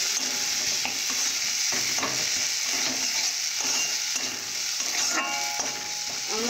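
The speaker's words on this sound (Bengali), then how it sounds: "এই ভালো করে কষে নেব এইভাবে" Spices with turmeric and chili powder being stirred and sautéed in a frying pan while making okra, with a steady sizzle and repeated scraping strokes of a spoon, close and continuous throughout.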